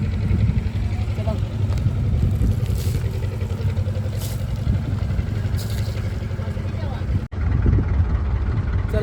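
A small wooden fishing boat's engine drones steadily and loudly close by on open water, a continuous low rumble with a brief dropout near the end.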